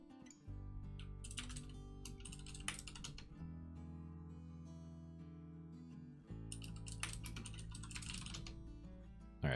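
Fast typing on a computer keyboard with sticky keys, keystrokes clattering in two bursts over a steady, loud tonal background that resembles music.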